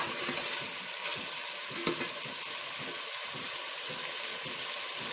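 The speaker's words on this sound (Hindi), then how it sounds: "अब इसको हम हल्की आंच करके थोड़ा और भूनेंगे" Green onion sabzi frying on a low flame, a steady, dense sizzle and crackle filling the whole stretch, with a faint stir or clink now and then.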